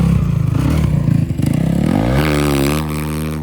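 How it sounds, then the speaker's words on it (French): Loud rally motorcycle engines roar and rev continuously in desert dunes during the Dakar Rally, one rising in pitch as it accelerates past at close range. "Et là, il y a les premières motos."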